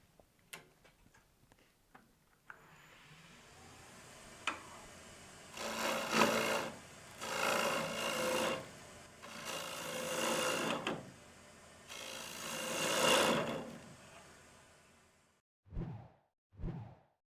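A gouge cuts into a wood bowl on a lathe with the tool rest angled, giving a steady hissing, rasping scrape in several sustained passes. Faint ticking comes between the cuts, then brief knocks near the end.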